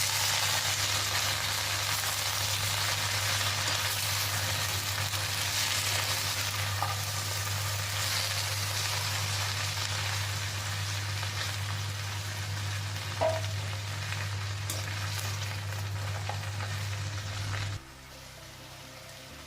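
A bunch of fresh mint leaves frying in a pan for chutney gives a steady, even sizzle with occasional stirring over a low electrical hum, cutting off abruptly near the end.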